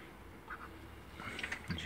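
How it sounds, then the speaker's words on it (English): A duck quacks a few times at a pond, short nasal calls over a steady outdoor background hiss, moderately near but not loud. "It's the duck."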